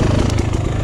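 A Beta Xtrainer dirt bike engine running steadily and loudly while riding tight single track at a demo day, a continuous buzzing drone with slight rises and falls in pitch.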